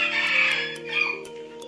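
A young chicken with fluffy, cotton-like feathers gives a short run of steady clucking and calling, close and clear, lasting under two seconds.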